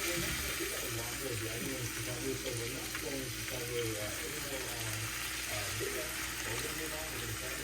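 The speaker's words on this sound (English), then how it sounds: "We're going to go ahead and put our pork chops in for about 3 minutes per side" Pork chops frying in hot oil in a pan, a steady sizzle and spatter running throughout beneath a voice talking.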